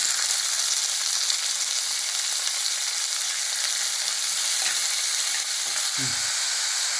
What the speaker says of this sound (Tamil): வதங்கினது வெங்காயம்